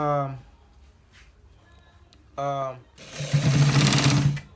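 A sewing machine stitching the back neckline of a blouse runs in a close, steady whir after short vocal sounds and a pause.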